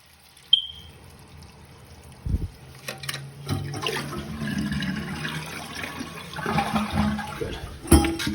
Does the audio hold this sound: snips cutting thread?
no